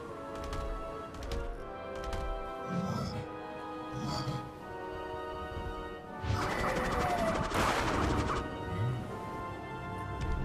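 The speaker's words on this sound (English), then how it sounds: "because everything got smashed up" In Mario + Rabbids Kingdom Battle, objects smash apart with loud crashing game impacts and clattering debris, several hits spread across the stretch with a denser burst toward the end, under game music and a person talking.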